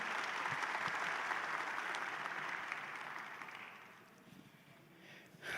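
An audience at an academic panel on health sciences competencies applauds steadily and loudly for several seconds, then the clapping thins out and fades toward the end.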